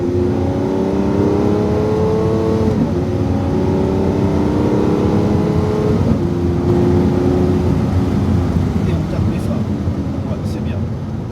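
A car engine revs and climbs through the gears while accelerating hard on a track, pitch rising then dropping and rising again, loud and close, with a voice talking over it.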